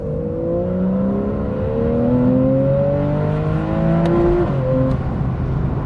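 A 991.1 Porsche 911 GTS accelerates hard with its exhaust valves closed and not in Sport Plus mode, the flat engine's tone climbing steadily through the revs, then dropping at a gear change before pulling again, close and loud.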